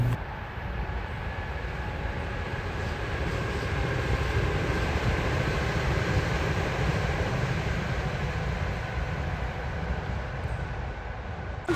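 A train rolls past at a steady distance, a continuous broad rumble and rattle of wheels on rails holding even for about twelve seconds with no talk.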